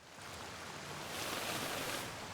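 Waterfall in the video game Atomfall, a steady broadband rush of falling water that swells slightly louder midway, heard alone with no talk.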